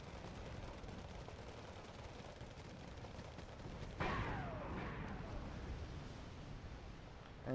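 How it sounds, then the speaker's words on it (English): A bombing run in the Wargame Red Dragon video game brings dense, rumbling battle noise with constant crackling fire, then a sharp, heavier blast partway through that swells the roar before it settles back. "it's a bombing run"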